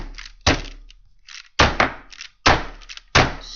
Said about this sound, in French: vous venez directement taquer le livre